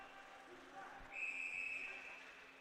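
A referee's whistle sounds at a college men's ice hockey game, one sustained shrill blast of about a second rising over steady arena crowd noise.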